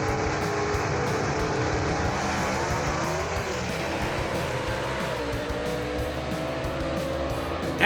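Ford and Chevrolet gasser drag cars race down the strip, their engines a steady, loud rumbling roar with a rising whine, heard from a distance, with no talking.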